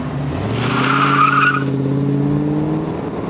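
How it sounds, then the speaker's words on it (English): A 1990 Ford Mustang doing a brake stand, its rear tires squealing loudly with rising pitch over the roaring engine for a few seconds before easing off. "Pedal it and tramp on it, it'll just squeal tires like crazy."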